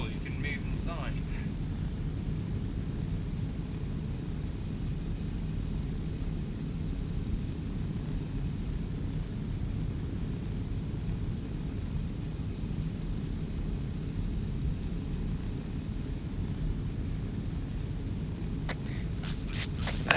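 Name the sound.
airplane engine droning in a video game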